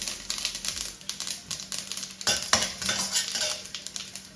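Green chillies dropped into hot oil with mustard seeds and fenugreek crackle and sizzle softly in a pan for muthira rasam, with light stirring clinks of a spoon.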